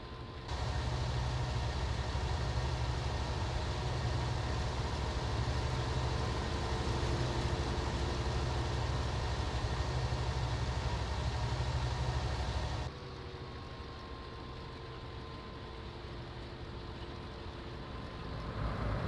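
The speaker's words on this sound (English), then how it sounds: "So here comes our carting tractor now." A chaser tractor in Farming Simulator drones steadily at a low, constant engine hum, the level dropping slightly toward the end as it approaches.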